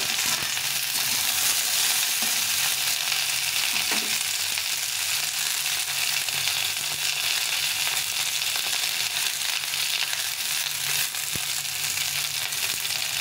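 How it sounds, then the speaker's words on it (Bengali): Cauliflower stalks sizzle steadily in a hot pan with sugar added, a loud continuous fry with occasional stirring scrapes, no voices. "সবগুলোকে ভালো করে ভেজে নেব।"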